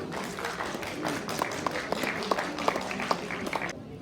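Applause for a student team presenting at a tech conclave, a fairly quiet crowd of clapping with a few sharp, distinct hand claps standing out, stopping abruptly near the end.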